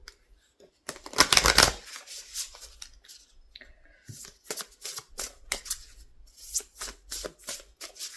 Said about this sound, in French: il faut pas faire le shuffle tout le temps dans le même sens parce que sinon les cartes elles vont être toutes pliées à la fin